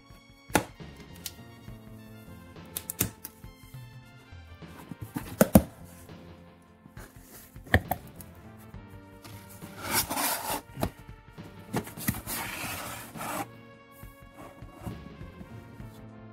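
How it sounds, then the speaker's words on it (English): A knife slices packing tape on a box with scattered short cuts, taps and thunks, close and fairly quiet, with a busier stretch of cutting and rubbing sounds toward the end. "let's cut this tape"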